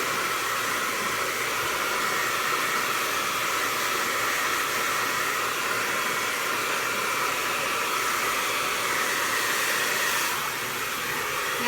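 A hair dryer blowing steadily while drying the hair at the crown of the head, a constant loud whooshing hiss that runs unbroken for the whole stretch with no talking.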